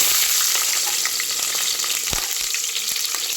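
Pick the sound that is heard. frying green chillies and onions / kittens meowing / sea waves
frying green chillies and onions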